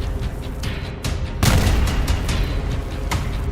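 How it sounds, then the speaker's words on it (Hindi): Heavy blasts of Israel–Hamas war fighting boom out as loud, broadband thuds, a sharp strong hit about midway followed by sustained rumbling and another burst near the end. "धमाके शुरू हो चुके हैं"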